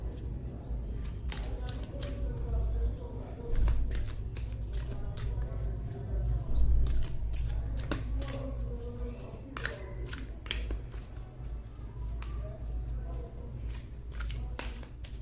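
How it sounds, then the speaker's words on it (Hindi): A deck of tarot cards shuffled by hand, giving rapid repeated riffling flicks and snaps over about fifteen seconds at close range, with a low background hum and no clear talking. "ठीक है, मैं इतने कार्ड शफल करती हूँ"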